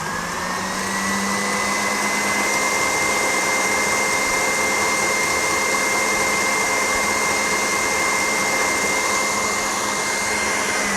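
An electric hand mixer whips cream for mascarpone frosting, a steady, loud motor whine that runs without pause for the whole stretch, with a slight pitch shift near the start.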